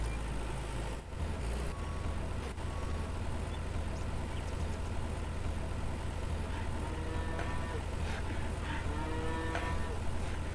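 Cattle on a farm in Farmer's Dynasty low repeatedly, several drawn-out moos rising over a steady engine-like hum and ambient farm noise, with no talking.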